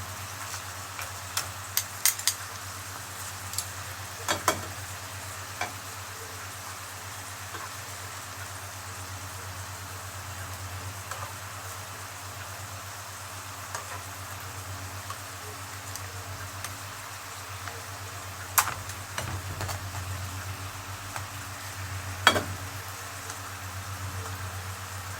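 Shrimp and crab sizzle steadily in a pan while being cooked for a saffron-rice seafood dish, a soft continuous crackle over a low hum with a few sharper pops, no talk.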